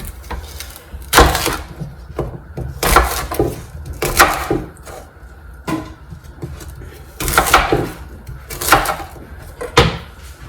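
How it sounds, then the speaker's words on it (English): A knife chops apples on a wooden board in loud, sharp strokes arriving in short bursts about a second apart, with quieter pauses between them in a kitchen. "Right, there's all the apples chopped up."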